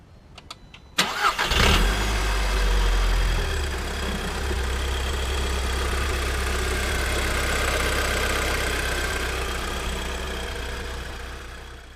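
A Volkswagen Mk6 Golf R engine cranks and fires with a sharp burst, flares loudly for a moment, then settles into a steady, even idle that holds for several seconds.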